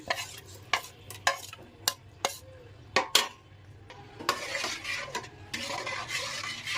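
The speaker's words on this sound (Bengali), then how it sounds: "এই যে এখন এই ভেজানো ডালটা দিয়ে দিলাম" Soaked, ground black gram lentil paste added to a hot pot, with a series of sharp spoon knocks against the metal followed by stirring and a soft sizzle, close and fairly quiet.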